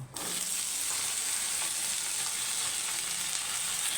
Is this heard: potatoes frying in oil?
yes